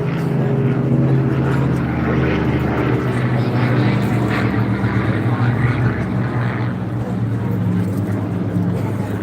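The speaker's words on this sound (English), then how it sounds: "Beautiful shot of the Spitfire rolling over the top of the Dakota and the Hurricane." Propeller aircraft, a Spitfire, a Dakota and a Hurricane, flying at Blackpool Airshow, giving a steady, loud engine drone throughout with crowd noise and talk beneath it.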